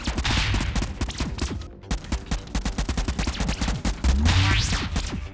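Concentrated gunfire from the video game Convoy: dense, loud, rapid bursts of shots that hammer along almost without pause, with a brief gap partway through before the barrage resumes.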